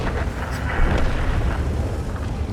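Booming cannon-like blasts from a Bat.-Châtillon 25 t tank firing a five-shell drum in a game, loud and dense, with rumbling low end and a few sharp bursts over a couple of seconds.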